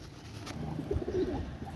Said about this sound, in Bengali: আপনারা দেখেন ভিউয়ার্স মাশাআল্লাহ অনেক সুন্দর কবুতর